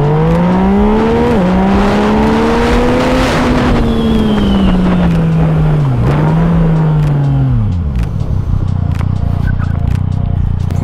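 A Yamaha MT-09 SP motorcycle accelerates hard, its loud engine climbing steadily through several gear changes with brief dips between them. The engine then winds down as it drops back, and there is wind noise throughout.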